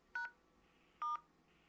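Two short dual-tone telephone keypad beeps, evenly spaced about a second apart, entering digits of a phone number on an automated customer service line, clear and close with quiet hum between.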